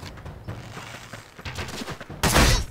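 Enemy gunfire in the fantasy role-playing game Might and Magic X Legacy, a rough burst of rattling shots under game noise that swells into a loud, dense blast near the end.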